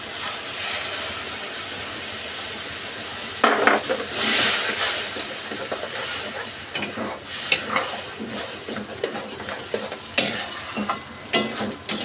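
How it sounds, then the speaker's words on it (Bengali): Black and white mustard paste, ground and strained, hits a pan for mustard hilsa, giving a steady sizzle with scraping stirs and clinks of a spatula against the pan, close and moderately loud. "এবার দিয়ে দেবো সর্ষে বাটা"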